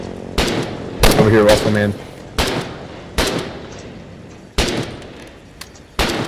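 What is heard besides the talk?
airplane strafing with gunfire in video game Foxhole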